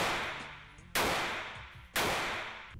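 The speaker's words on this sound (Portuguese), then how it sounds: "700 tiros por minuto é a capacidade desta metralhadora" A machine gun fires two sharp, loud shots about a second apart, each with a long echoing decay, standing alone without voices.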